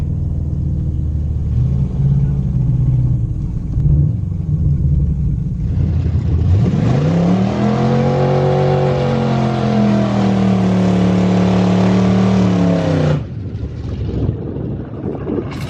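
A Subaru WRX engine revs hard and launches from 5,000 rpm with traction control off, accelerating loudly and rising in pitch through several gear changes before backing off, with wind buffeting the microphone throughout.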